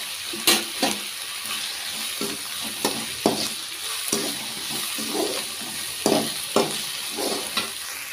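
Onions sizzle and fry in a pan for egg bhurji, with a steady hiss broken by repeated stirring scrapes and clinks at irregular intervals, fairly close and moderately quiet, with no voices.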